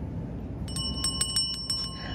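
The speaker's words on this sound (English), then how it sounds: "So they said that in order to summon Kurt, we have to ring the bell." A bright bicycle-style bell at a farmers market stall rings in a quick series of about six close, ringing dings over a low background murmur.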